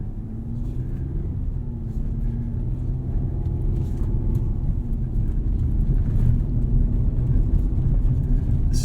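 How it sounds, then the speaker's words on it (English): A 2021 Chevrolet Colorado ZR2 pickup driving off-road, heard from inside the cab as a loud, steady low engine rumble and drivetrain drone with faint creaks and knocks from the rough ground. "let's take you on a little bit of a off-road run here and see how we do"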